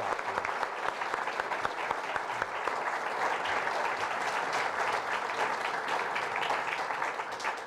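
A lecture audience at a November 2013 Gettysburg history talk bursts into dense, sustained applause, many hands clapping steadily at an even level from start to finish.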